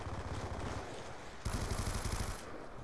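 Rapid automatic gunfire in the video game Black Ops 2 on PC, dense rhythmic bursts of shots rattling continuously and growing louder midway, with no talk over them.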